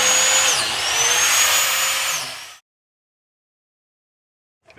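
A power drill boring holes into a log for shiitake mushroom spawn, a loud whirring burst for a couple of seconds that cuts off abruptly into silence.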